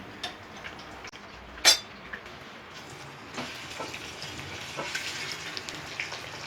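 Food frying in a pan for dhaba-style egg masala, a soft, steady sizzle with a sharp metallic clink early on and scattered light ticks as the sizzling grows slightly louder.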